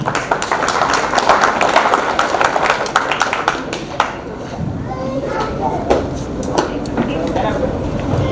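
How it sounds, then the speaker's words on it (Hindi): An audience at an award programme in Mumbai claps, loud and continuous at first, then thins into scattered claps under crowd noise and murmuring voices. "तालियां हो जाए।"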